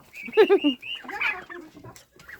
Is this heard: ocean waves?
no